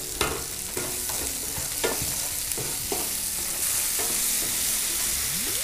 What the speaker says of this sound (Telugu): ఎండుమిర్చి ఆయిల్లో ఫ్రై అవుతుంటే ఘాటు బాగా ఉంది.